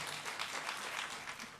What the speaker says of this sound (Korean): 우리 목사님 나오실 때 큰 박수로 환영해 주십시오.